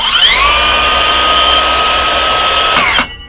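A Stahlwerk cordless brushless circular saw spins its blade up from rest to a loud, steady high whine that holds for a few seconds, then cuts off abruptly.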